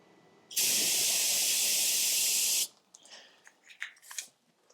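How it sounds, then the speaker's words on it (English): A can of Gunk brake cleaner sprays in one loud, steady hiss lasting about two seconds, then cuts off, leaving faint rustles and small handling noises. "When I went to spray it, it didn't really spray straight."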